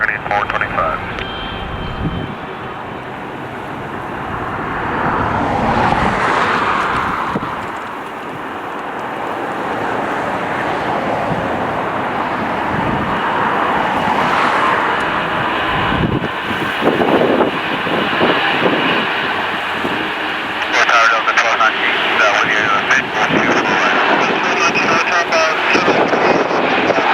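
Heavy jet aircraft at LAX airport, a sustained engine roar swelling and fading across the runway area, mixed with radio air traffic control chatter throughout.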